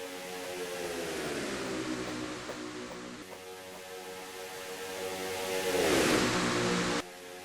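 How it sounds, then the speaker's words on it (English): A race car engine in a stock car racing video game at the Coca Cola 600 at Charlotte drones at a moderate, steady level with shifting pitch, swelling louder near the end before dropping away abruptly. "Boy, listen to that engine package roar."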